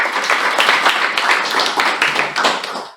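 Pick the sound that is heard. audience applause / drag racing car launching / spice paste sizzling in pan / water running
audience applause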